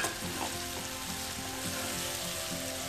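A spice tempering for Rajasthani mango and chana dal sabzi crackles in a pan, a dense, even sizzle with faint stirring movement running throughout at a quiet, close level.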